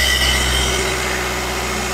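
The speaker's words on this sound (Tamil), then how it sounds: "ரேஸ் பண்ணே பக்கா குவாலிட்டி இன்ஜின்" A used car engine at a car dealership runs loud and close with a steady, droning hum that holds level throughout, with no talking over it.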